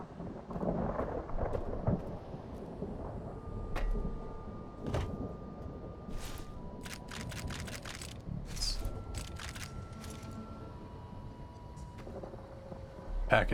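Low rumbling thunder and steady rain from a storm in the video game Fallout roll along quietly in the background, with a few faint clicks and taps on top and no talking.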